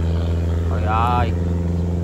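A 4-tonne wooden boat's engine runs steadily and close by, a continuous low drone throughout with a brief clatter in the middle.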